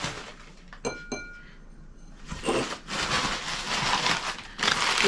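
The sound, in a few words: clear glassware clinking while being unpacked from box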